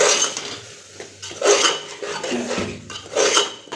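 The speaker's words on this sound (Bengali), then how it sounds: "এখন মশলাটা কষে নেব।" Ground spices with a little water being stirred and scraped in a pan for a Mughlai dish, producing close, intermittent metallic scraping and clinking strokes in an irregular rhythm.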